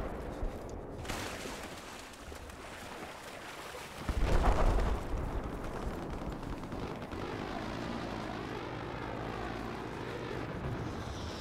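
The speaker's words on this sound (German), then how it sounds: "Oh, hier ist ein Hubschrauber." Helicopter in the Battlefield 4 video game, Naval Strike multiplayer, a steady rotor and engine drone with a louder swell midway, heard alongside ongoing battle ambience and no talking.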